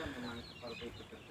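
Free-range native village chickens clucking in a small home-scale backyard flock, a short run of close, busy clucks and calls with a person's voice mixed in.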